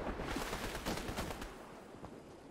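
Gunfire from the video game Fortnite crackles in a dense, steady run of shots, loud and continuous with no talk over it.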